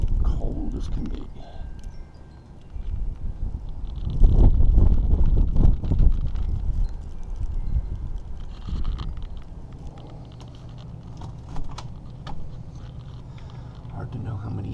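Wind buffeting the microphone during a heavy snowstorm in North Carolina, gusting louder mid-way then easing to a steady low roar, with someone speaking over it.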